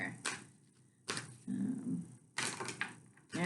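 A deck of tarot cards being shuffled up close, in several short, crisp riffling bursts separated by brief pauses.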